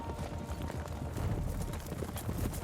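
Horse hooves clip-clop in a steady stream of soft thuds over a rumbling background, fairly faint and somewhat distant.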